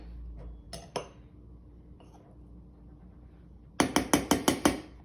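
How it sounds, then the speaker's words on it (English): A spatula or knife levels dough in a baking pan. Quiet scraping is followed by a quick run of six sharp metallic clinks against the pan near the end. "you want to level it off with a spatula or a knife"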